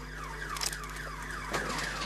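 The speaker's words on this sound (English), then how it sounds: "it hits an electric fence and triggers the house alarm" A house alarm set off by an electric fence wails continuously, a repeating up-and-down electronic tone cycling steadily at moderate volume over a low steady hum.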